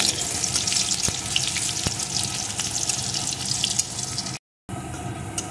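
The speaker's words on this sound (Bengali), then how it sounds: "রসুন কুচিটাও একটু ভেজে নেব" Chopped garlic fries in tempered oil for an egg papaya curry, a steady close hiss and crackle broken by a brief dropout near the end.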